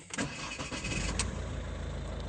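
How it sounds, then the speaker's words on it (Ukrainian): A Ford Galaxy 2008 with a 2.0 TDCi diesel engine starts up and settles into a steady, close idle rumble with no talking. "Все, ключ прописався, запускає автомобіль,"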